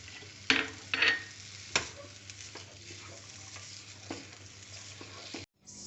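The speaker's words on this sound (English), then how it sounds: "I am just putting a coriander. And now we will mix it." Coriander stirred as it fries in a pan, with soft frying sizzle, several close scrapes and taps of a spoon against the pan, quiet and without talk.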